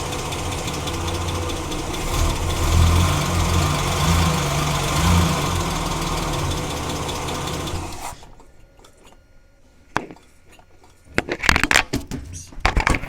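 A Nissan Patrol GQ with a TB42 engine runs roughly for about eight seconds as the accelerator is pumped, its uneven idle loud and steady, then cuts out, leaving a few sharp knocks and clatters.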